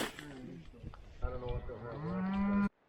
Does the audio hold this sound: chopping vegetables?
no